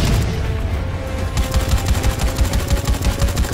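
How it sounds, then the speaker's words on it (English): Turret machine gun on the back of a vehicle in Dead Rising 4, firing in a loud, rapid continuous burst with a dense rattling rhythm, close and sustained throughout, with no talking over it. "I have a turret on the back."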